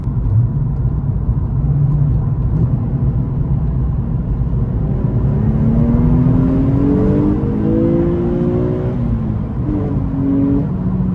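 A Lexus IS-F engine revs hard while accelerating, its pitch climbing steadily through rising gear tones, loud and close with no talking.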